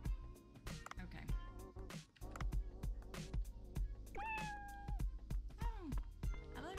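Cartoonish cat meows from the video game Dave the Diver, several rising and falling cries over game music and effects, with a person talking over them.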